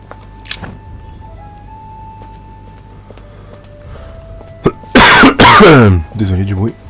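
Near the end, during play of the video game The Council, a person coughs and clears their throat in a couple of loud, harsh bursts, followed by a short voiced rasp after an otherwise quiet stretch.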